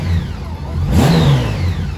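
Honda Goldwing motorcycle engine on a bike with new throttle cables, close and loud, idling low then blipped into a quick rising rev that sweeps up and settles back down.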